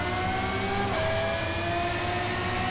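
A race car engine in Need for Speed Shift 2 Unleashed holds a loud, steady high rev with a brief pitch dip partway through, droning continuously from start to end.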